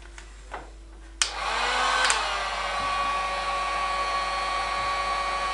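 Hot air tool shrinking heat-shrink tubing on a dashboard camera mount. A few clicks lead into a steady, close, loud blowing whine that holds to the end.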